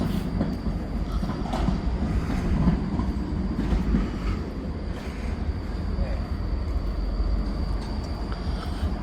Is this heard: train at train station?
yes